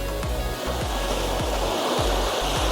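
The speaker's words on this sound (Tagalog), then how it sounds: "malakas po talaga yung alon dito sa Sibang Cove" Continuous roar of strong ocean surf at Sibang Cove, Calayan Island, with repeated low thumps of waves breaking, loud and steady throughout, no voices.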